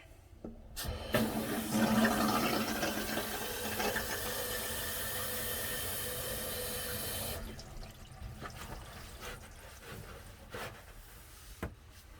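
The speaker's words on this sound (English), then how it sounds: "let a little water out of the faucet" Water running steadily from a reverse osmosis faucet, a loud continuous splashing rush for about seven seconds, then fading to a quieter trickle with faint clicks.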